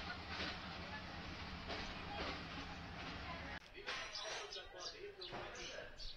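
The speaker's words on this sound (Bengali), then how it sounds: "ট্রেনটা চলে গেল এক্ষুনি।" A train pulls out of Ella station, a steady broad rumble that drops away about halfway through, leaving quieter platform sounds while people talk nearby.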